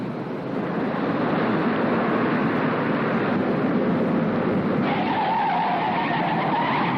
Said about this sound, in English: That's Flame's car.